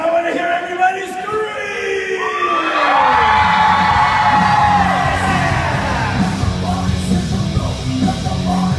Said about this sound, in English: This time I want to hear everybody